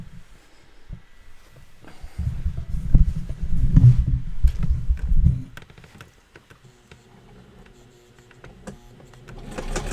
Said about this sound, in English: I'll move this microphone while I'm sewing.